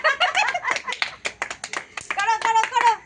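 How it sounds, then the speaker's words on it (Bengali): Children clap their hands in a lively, uneven rhythm of close, sharp claps, mixed with chatter and giggling voices throughout. "তুমি পারো বা না পারো, শুধু হাততালি দেবে"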